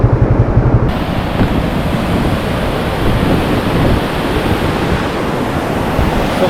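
Strong rushing water pours over Lumbayao dam during flooding, a loud, continuous roar filling every moment, with no voices.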